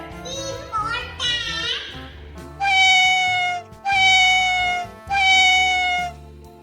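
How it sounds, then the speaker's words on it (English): A cat meows three times, loud and close, in long drawn-out calls with short gaps between them. Some high, child-like vocal sounds come just before the meows. "C for cat"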